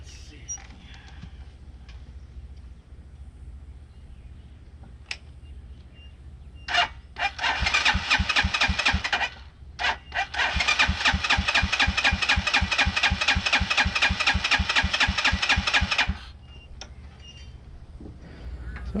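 A cheap Chinese-made motorcycle that sat for ten years, fitted with a new carburetor, coughs through a couple of short bursts, then catches and runs at a fast, even putter for about eight seconds before cutting off.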